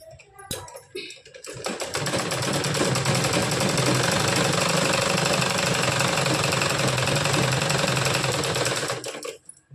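Sewing machine stitching folded blouse fabric, running in one loud, continuous rapid rattle for about seven seconds after a few brief handling knocks, then stopping.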